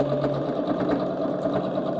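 A sewing machine stitches a reversible vintage clutch bag, its motor humming in a fast, steady needle rhythm; close and continuous with no talking.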